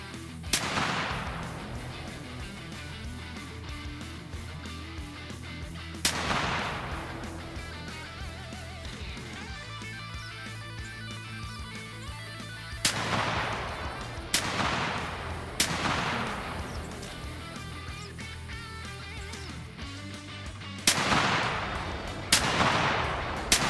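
Loud, sharp gunshots ring out in the open field during a St Patrick's Day pheasant hunt, several single blasts spaced irregularly with a few quick pairs near the end, each decaying into outdoor ambience.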